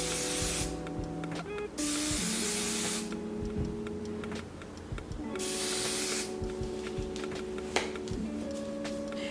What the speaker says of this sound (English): I'm gonna spray the inside of the closure just so I can have more security.